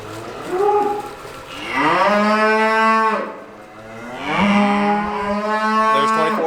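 Farm cattle give two long, loud moos in a row, each call rising, then holding and fading, with a short pause between them and no talking.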